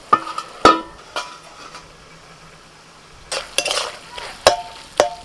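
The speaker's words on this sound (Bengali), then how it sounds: "এবার সেদ্ধ করা চিকেনটা দিয়ে দিচ্ছি কষাতে কষাতে সামান্য একটুখানি জল দিয়ে দিয়েছিলাম" A utensil stirs boiled chicken through spice masala in a pan, making a few separate scraping and clinking strokes with quiet pauses between them. The strokes are close and clear, and no one talks.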